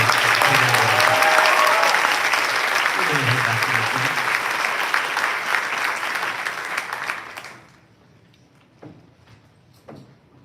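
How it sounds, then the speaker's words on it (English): Sustained applause from an audience at a high school senior awards ceremony honoring the top ten seniors, loud and dense for about seven seconds before dying away to a few scattered claps and quiet room noise. "Have another round of applause for our top 10 seniors."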